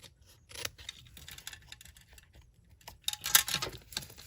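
Snips cut small miter cuts into layered card stock with a few short, quiet snipping clicks, close up, with brief pauses between them.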